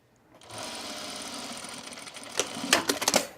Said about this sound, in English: when you're sewing these little angles like this on pockets